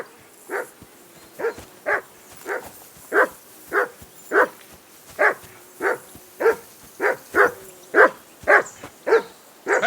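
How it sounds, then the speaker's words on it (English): A dog in the medieval role-playing game Kingdom Come: Deliverance 2 barks steadily and fairly close, about fifteen evenly spaced sharp barks with slight whimpering tones, with no talk. "Call that dog to heel!"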